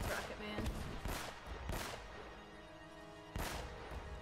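Repeated gunfire in Uncharted: Drake's Fortune, loud broadband bursts spaced roughly a second apart, with a final shot near the end, over a dense game soundscape of music and effects.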